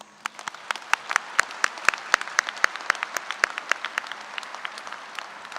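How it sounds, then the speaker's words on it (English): A graduation crowd at Manhattan High applauds the school staff, with scattered, distinct claps rising over a steady wash of applause, moderately distant and sustained throughout. "Let's all give a round of applause to the MHS staff"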